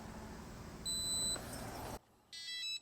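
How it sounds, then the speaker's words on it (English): Short high electronic beeps from an RV keyless entry door keypad lock sound twice over a soft background hum, the second burst a quick cluster of chirps. "So you don't hear no more beeping."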